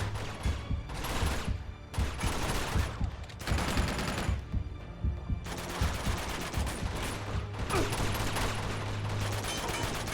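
Enemy gunfire in Uncharted 2, with dense automatic bursts and fusillades repeating in waves of a second or two and brief gaps between them. The fire is loud, close and continuous over the game's rumbling background.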